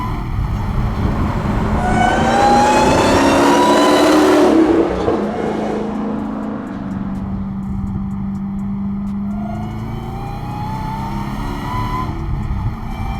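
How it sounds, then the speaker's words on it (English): An 850-horsepower widebody Dodge Hellcat Charger with a manual transmission and a smaller supercharger pulley revs hard, a loud rising engine roar with whine that fades midway into a lower, steadier engine drone. "I just love the whine that you get from these things, especially that smaller pulley"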